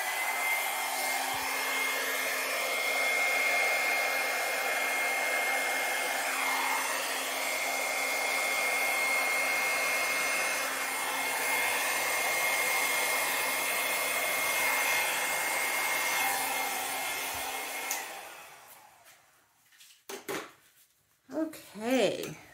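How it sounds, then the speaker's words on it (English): A blow dryer running at steady high speed for pour-painting work, a loud continuous whine and rush lasting most of the clip before it cuts off, followed by a few short clattering handling sounds. "let me grab the blow dryer"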